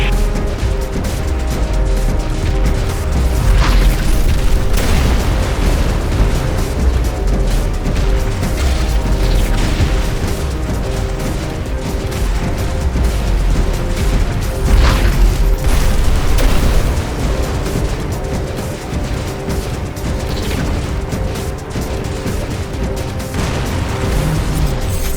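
Video game explosions as a gunship squadron is destroyed in X-Morph: Defense, a dense, continuous roar of booms and bursts over a steady electronic hum, with sharper blasts near 4 and 15 seconds.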